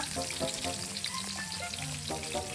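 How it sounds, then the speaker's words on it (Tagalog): Garlic sautéing in hot oil for pancit, a steady close sizzle and crackle with a few soft stirring taps, alone without talk. "Bawang, magigis tayo ng bawang."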